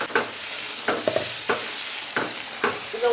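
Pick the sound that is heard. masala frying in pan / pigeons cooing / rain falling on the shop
masala frying in pan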